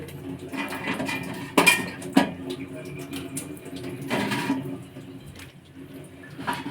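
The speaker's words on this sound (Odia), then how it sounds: "ମାଛ ପକାଇଦେବା" Fish pieces dropped into a pot of curry, giving two sharp close splashy clatters followed by a softer sizzle and stir, with kitchen clinks around them.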